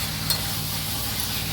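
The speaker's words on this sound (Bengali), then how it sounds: "এইভাবে আমি আরও কিছুক্ষণ ধরে কষে নেব।" Mutton and spices stir-fried down into kosha in a pan, a steady sizzle with soft stirring scrapes, close and continuous.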